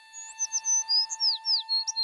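A small sparrow chirps in a quick series of about ten bright, high tweets and short whistled notes, clear and close, as a sound effect in a narrated folk tale about a bird caught in a trapper's net.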